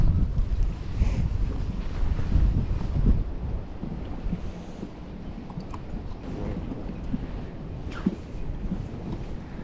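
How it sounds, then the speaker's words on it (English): Strong wind gusts batter the microphone aboard a fishing boat during a crappie tournament on Watts Bar, with heavy low rumbling buffeting and water noise throughout. "Crazy windy."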